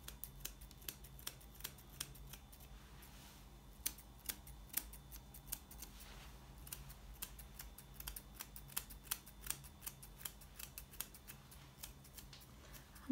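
Scissors trimming a Havanese dog's fur, a quiet, rapid series of crisp snips at close range, irregular in rhythm and continuing throughout with no talking.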